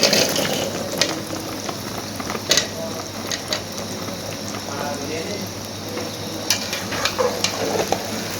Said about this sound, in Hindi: अब ऑयल गर्म हो गया, इसके अंदर हम ऐड कर देंगे लसूड़े।